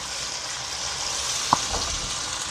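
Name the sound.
ginger garlic paste frying in a pan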